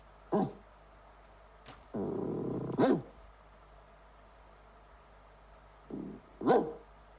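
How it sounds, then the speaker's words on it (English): A guard dog at home lets out a few sharp barks and a low sustained growl, loud and close, separated by quiet gaps. "I have an actual guard dog."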